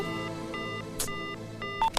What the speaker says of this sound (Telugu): ఏంట్రా సడన్ గా ఫోన్ కట్ చేసినావు?